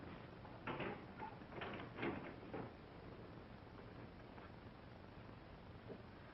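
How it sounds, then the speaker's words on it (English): A door lock clicks and rattles, a few quick mechanical clunks close by over a faint background hum, then the room goes quiet. "Lock that door."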